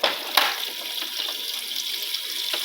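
A Super Hippo 12 kg washing machine fills with water, a steady hissing gush of running water into the tub with a couple of brief splashy bursts, close and alone.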